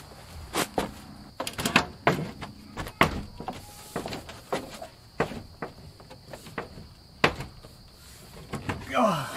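Repeated knocks, thumps and scraping bumps as a door is worked into its frame during a difficult installation, irregular and close by with quiet pauses between.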